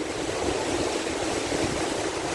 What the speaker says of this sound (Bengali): অনেক সুন্দর জোয়ার আসতেছে এখানে, পিছনে অনেকগুলা ঢেউ আসতেছে।